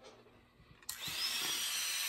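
A rotary power tool spins a burr bit to widen a drilled hole in the base for an otter carving. After some faint handling noises it starts suddenly, and a steady high whirring grinding continues to the end.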